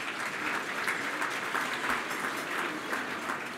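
Steady, even audience applause at an evening event's opening remarks, a continuous wash of many hands clapping at moderate distance with no speech over it.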